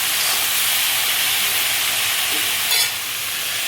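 Poha sizzles steadily in a pan, a continuous close hiss of frying with no talk.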